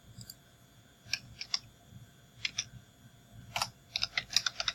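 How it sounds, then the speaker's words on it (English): Computer keyboard typing in short irregular bursts of crisp clicks, close and fairly quiet against a faint background hum, with no voices. "let me type this up here"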